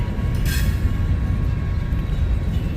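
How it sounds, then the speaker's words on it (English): A train with a GE locomotive approaches through downtown Galesburg, a steady low rumble and rolling rail noise that holds throughout, with a brief bright squeal or hiss near the start and no voices. "Yeah, I think this is a train that is approaching"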